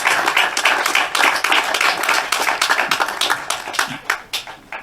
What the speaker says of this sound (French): des applaudissements, s'il vous plaît, pour le président du conseil départemental